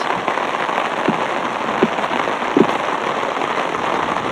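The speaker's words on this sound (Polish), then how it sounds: "zanosi się burzowa noc. Zobaczcie jak pada." Heavy rain pours at a campsite during a stormy night, a dense steady hiss of drops drumming on surfaces, with a few sharper splats and taps standing out near the microphone.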